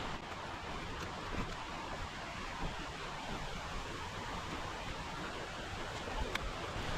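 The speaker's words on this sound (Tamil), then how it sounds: "தண்ணி சவுண்டு கேட்குதா? கேட்குதா தண்ணி சவுண்டு?" Water rushing at Mangalam waterfall, a steady, broadband roar that fills the whole clip evenly with no pauses, fairly close and continuous, with no talk over it.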